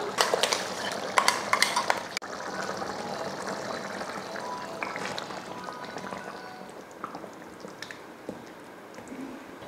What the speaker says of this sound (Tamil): இப்போ இதில் தேங்காய் ஊற்றிடலாம்